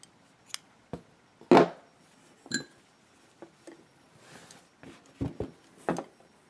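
Scissors snipping knitting yarn after a cable cast-on and bind-off, a handful of sharp metallic clicks and cuts spaced irregularly, close and fairly quiet with no speech.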